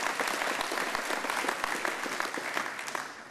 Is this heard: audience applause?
yes